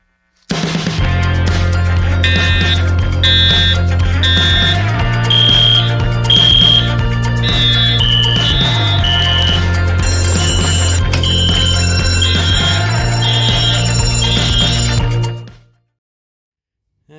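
A fire alarm system sounds during a test, repeating a loud, patterned electronic tone cycle for about fifteen seconds before cutting off abruptly into silence.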